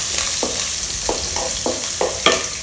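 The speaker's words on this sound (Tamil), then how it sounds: "கடுகு பொரிஞ்சிச்சுங்க. கருவேப்பிலை, வெங்காயம், பூண்டு." Mustard seeds, curry leaves, onion and garlic fry in a pan, giving a steady sizzle broken by about six distinct stirring scrapes at a regular pace, close up and with no talking.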